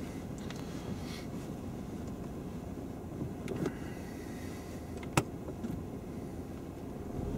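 A car pulls away during a driving lesson, its engine a soft, steady low hum heard from inside the cabin, with one faint click partway through.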